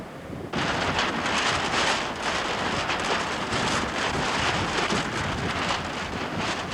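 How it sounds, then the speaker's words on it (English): Strong wind roars steadily over the microphone at a windsurfing slalom race on rough water, a loud, continuous broadband rush that starts abruptly and holds for several seconds with no voices. "The wind's picking up, but conditions are deteriorating."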